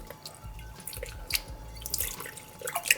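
Rice grains being rinsed by hand in fresh water: light trickles, drips and wet swishing close by, scattered and irregular, with no talk.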